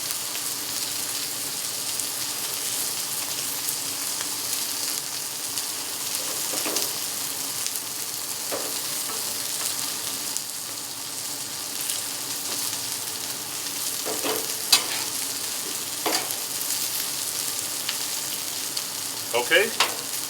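Potatoes frying on a griddle top and pressed down with a rag, a steady close sizzle and crackle with occasional scraping and pops, no talking.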